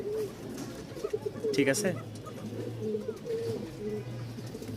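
A frightened young Rajshahi Giribaz pigeon gives thin, high calls in short bursts, close by, over steady background noise, with someone speaking briefly.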